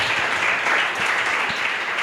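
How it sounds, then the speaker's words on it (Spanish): A church congregation claps for the Lord, a dense, steady wash of applause from many hands filling the room for about two seconds. "Un aplauso para el Señor."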